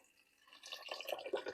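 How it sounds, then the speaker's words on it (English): Filtered water runs from a kitchen tap into a stock pot in the sink, a soft faint trickle that builds into a fuller, splashing fill over a second and a half. "Put your pot in the sink, add some filtered water like I'm doing here."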